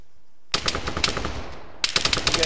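Rapid automatic gunfire from a shooter video game, loud and close, in two dense bursts: one after a short silence, then a brief lull before a second burst.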